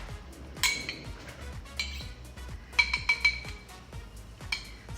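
A metal spoon clinks inside a glass caper jar, a handful of bright close taps and rattles, with a short cluster of quick clinks in the middle and a few isolated ones around it.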